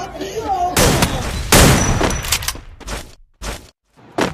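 Several sharp video game firecracker-gun shot bursts crack out in quick succession, loud and close, followed by a few isolated pops separated by brief silences.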